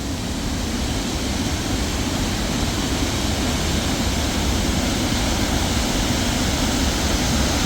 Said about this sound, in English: Lovely waterfall though, but you can tell by how much rain we've had